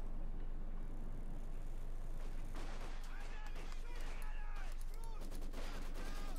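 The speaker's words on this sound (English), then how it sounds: "MD42 opening up from the flank, pushing back the conscripts with heavy, accurate fire" MG42 machine gun fire in the Company of Heroes 2 video game, a sustained rattle of bursts amid other battle gunfire over a steady game soundscape, with a commentator's voice running underneath.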